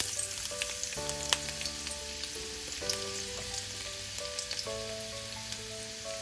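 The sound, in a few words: chopped garlic and ginger frying in hot oil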